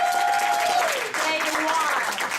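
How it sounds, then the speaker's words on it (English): Group applause at an event for guests, broad clapping that swells and holds, with a voice talking over it near the start. "can we give ourselves a round of applause for an amazing"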